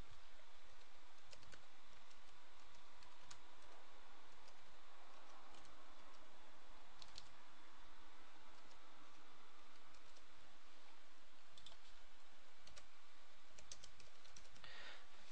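Keystrokes on a computer keyboard as a name is entered into a contact form, a quiet, steady run of light irregular clicks with brief pauses, heard alone.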